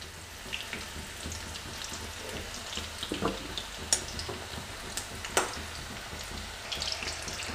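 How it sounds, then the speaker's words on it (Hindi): Potatoes frying in hot oil, following cauliflower cooked in the same oil, give a continuous close sizzle with sharp crackles and pops scattered throughout. "और उसी तेल में हम आलू भी फ्राई कर लेंगे।"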